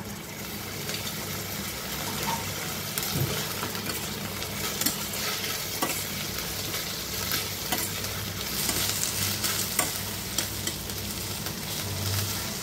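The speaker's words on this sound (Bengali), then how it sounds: "আদা রসুন বাটা দিয়ে 2 মিনিটের মতো ভেজে নেব" Ginger-garlic paste frying with browned onions in a pan for mutton pulao, giving a steady, moderate sizzle with occasional stirring scrapes throughout, no voices.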